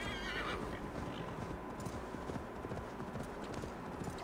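Galloping horse hooves clip-clop steadily close by in a video game, with a horse's whinny rising early on, continuous and loud throughout.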